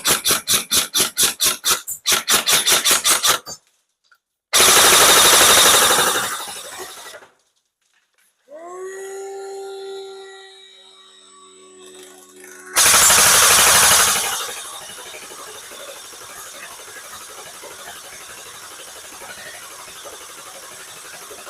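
Tokyo Marui SGR12 airsoft AEG firing from a test drum magazine: a rapid full-auto burst of clicks, then loud whirring feed bursts, a squealing winding sequence, and another whir fading into hiss.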